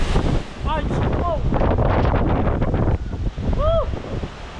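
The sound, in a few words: strong rain and wind during a storm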